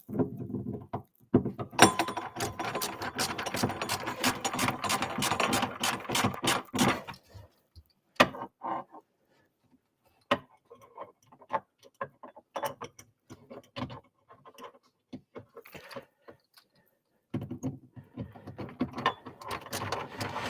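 Screws are driven into brackets during a Golden Tee Deluxe arcade cabinet build, with a ratcheting screwdriver clicking rapidly in close bursts, then scattered taps and quieter pauses before another burst of clicking.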